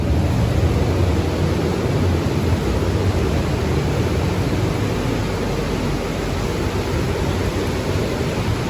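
Heavy rain pours down in a loud, unbroken broadband hiss that stays steady and close for the whole duration, with no talking.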